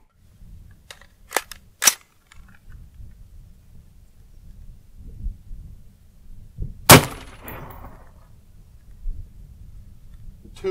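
AR-15 with an 18-inch 1/7 twist upper firing Barnes 5.56 69-grain OTM rounds into 10% ordnance gelatin at a range: a few sharp, loud reports spread over the clip above a low background rumble.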